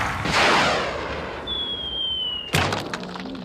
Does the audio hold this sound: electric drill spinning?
no